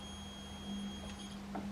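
A multimeter on continuity emits a steady electronic tone while a Kitsound Slam 2 Bluetooth speaker board is tested, holding one pitch for over a second, then cutting off into faint background noise.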